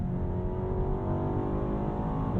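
A 2022 Alpina B8 Gran Coupe accelerates out of a corner. Its engine gives a loud, continuous, smooth drone that climbs slightly in pitch, heard from inside the car.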